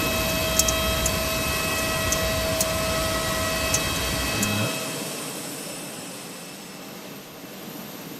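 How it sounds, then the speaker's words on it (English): Brake fans whirring on a Fenix A321 airliner in MSFS 2024, a steady broadband hum with faint tonal whine and occasional ticks, loud at first and then dropping to a softer, thinner drone midway. "but you can hear the brake fans."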